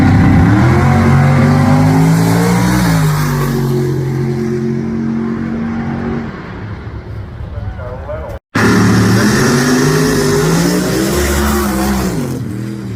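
Old Heavy, a wheelie drag race car, roars hard down the strip at US 60 Dragway, its engine note climbing and shifting in long accelerating pulls, loud and close with a brief cut midway.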